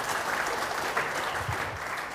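An audience at a motivational seminar applauds, a dense, even wash of many clapping hands sustained throughout at fairly close range, with little talk.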